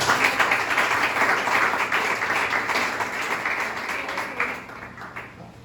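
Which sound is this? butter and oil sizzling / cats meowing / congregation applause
congregation applause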